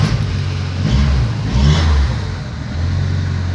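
A car engine cranks and catches, then revs up and settles into a loud, close rumble, with a faint clatter in the short burst.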